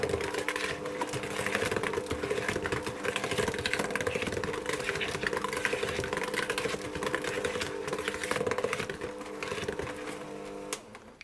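Electric mixer running on low speed through lemon sandwich cake batter after liquid is added, a steady whirring motor hum lasting throughout, close and continuous with no talk.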